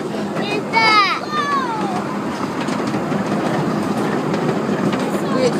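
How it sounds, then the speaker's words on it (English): A mini train rolls along its track with a steady clattering rumble and a brief high metallic squeal of wheels, while people chatter over it throughout. "This train's like the real deal"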